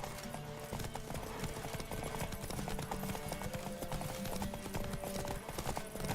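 A galloping horse races along in Witcher 3: Wild Hunt, its rapid hoofbeats drumming steadily and close over a music bed, with a brief whinny and faint speech in the mix.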